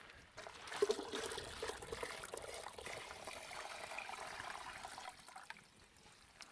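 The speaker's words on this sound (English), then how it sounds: "I'm just going to keep tipping this water in. I'm going to let it filter through." Water tipped into a container to filter through sediment during alluvial gold prospecting, a steady soft pouring and trickling that runs continuously before tapering off.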